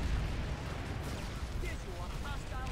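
Rapid, dense gunfire in the game Planetside 2 fills the clip as a continuous loud roar of shots and blasts, with brief chirpy electronic tones near the end.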